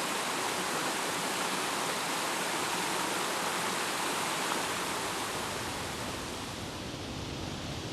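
Rough creek water rushes on a forested hillside, a loud, steady broadband roar of churning flow heard close and unbroken throughout, with no voices.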